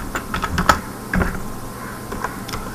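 Someone types C code on a computer keyboard in short bursts of close, crisp key clicks separated by brief pauses.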